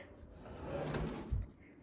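A kitchen drawer slides open or shut in a home kitchen fitted with filing-cabinet drawers and adaptations for disabled living, a soft rolling rumble ending in a short, firm thump close by.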